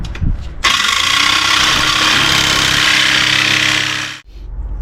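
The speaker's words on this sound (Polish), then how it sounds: "Zrobimy sobie test cięcia. Mam tu te skrawki, które uciąłem. Wyżynarka." A jigsaw cuts through scrap offcuts of van body sheet metal, a loud continuous rasping buzz that starts abruptly, holds steady for about three and a half seconds, then stops, with a short clatter before and after.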